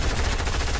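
Rapid gunfire from the Fortnite video game sounds in a loud, unbroken automatic stream through the whole short moment.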